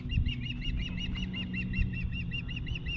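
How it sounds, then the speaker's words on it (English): A flock of geese honks repeatedly in a steady, rhythmic chorus, moderately close, over a low rumbling background, on a river while an osprey attacks them. "There's actually an osprey attacking the geese."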